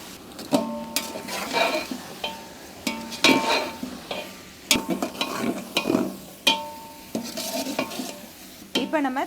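Onions, mint and tomatoes for a large batch of kuska sauté in a pot as a metal spoon stirs and scrapes in repeated strokes over a soft sizzle, with occasional clanks against the rim, close and clear.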